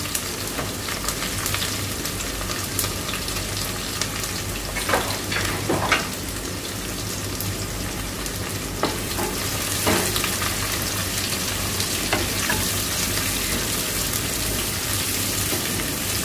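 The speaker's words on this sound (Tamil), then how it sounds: "ஒரு 2 சைஸ் பெரிய வெங்காயம் இதை நீட்டா வாக்கில் வெட்டியிருக்கேன். இதையும் சேர்த்து ஃப்ரை பண்ணிக்குவோம்." Sliced large onions and fennel seeds fry in oil for a chicken curry made without garlic or ginger, with a continuous close crackling sizzle and occasional stirring scrapes.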